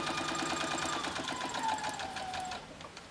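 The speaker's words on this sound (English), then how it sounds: "So I'll sew this first seam with you just so you can see." A sewing machine stitches a quarter-inch seam on a Christmas tree placemat of half-rectangle triangles, running fast and steady and close up, then slowing near the end, with no talk over it.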